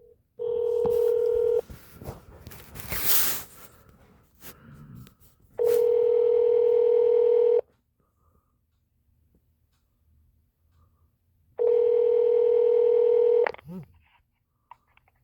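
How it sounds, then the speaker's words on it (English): A telephone call to a mayor's office plays out as a ringback tone in three long, evenly spaced bursts with silence between them, after a short burst of dialing and handling noise. "we're calling them on another phone recording it"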